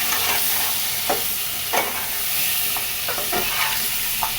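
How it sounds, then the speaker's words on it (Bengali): Potatoes sauté in spiced oil in a pan, with a constant close sizzle and occasional soft scrapes and clinks as they are stirred. "আলুটা একটু কষিয়ে নিই।"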